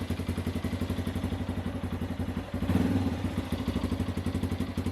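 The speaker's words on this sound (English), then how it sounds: "This is the exhaust sound, the stock exhaust." A 2020 Yamaha TTR 230 motorcycle with its stock exhaust idles close by in a steady, even rumble, with a brief swell in revs midway before settling back to idle.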